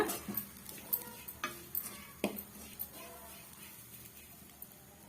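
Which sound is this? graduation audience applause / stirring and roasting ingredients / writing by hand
stirring and roasting ingredients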